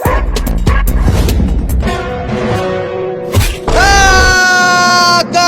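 A cartoon dog barks and yips loudly in quick bursts, then lets out long, drawn-out whimpering howls, with bright animated sound effects around it.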